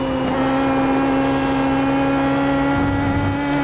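Pro Mazda PM18 race car in a racing video game at Watkins Glen, its engine holding a loud, steady high drone close up, with a slight dip and rise in pitch near the end as the throttle comes back on.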